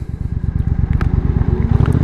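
A Triumph Bonneville America motorcycle engine pulses rapidly and evenly in fifth gear on the freeway, a loud, close, throbbing exhaust beat with faint wind rush over it.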